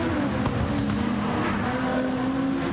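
Porsche GT3 Cup race cars in a racing video game roar as one steady, loud engine drone, holding a dense, constant tone with no break.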